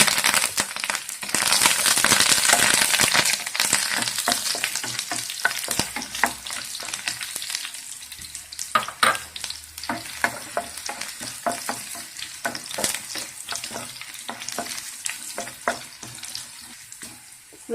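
Mustard seeds, curry leaves, shallots and dried red chillies fry in hot coconut oil, sizzling and crackling steadily throughout while a spoon stirs and scrapes the pan in irregular clicks. Nobody speaks.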